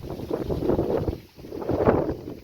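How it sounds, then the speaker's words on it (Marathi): Strong wind gusts across an open fenugreek field outdoors, producing a rough, blustery rumble against the microphone that surges, briefly dips, then swells again. "वारा पण जास्त सुटला"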